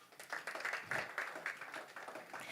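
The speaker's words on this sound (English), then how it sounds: "Can we please give MTC a round of applause?" An audience at the MTC NFA Cup launch event claps for MTC, a fairly quiet but steady patter of many hands that rises briefly and then tapers.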